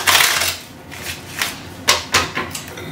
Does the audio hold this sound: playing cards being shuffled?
yes